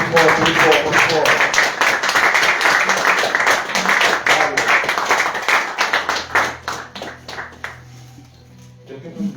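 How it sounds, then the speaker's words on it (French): A church congregation applauding and acclaiming the Lord, with loud, dense clapping and cheering voices that gradually thin into scattered claps near the end. "Acclame fortement le Seigneur"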